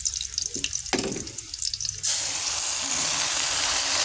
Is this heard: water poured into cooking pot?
yes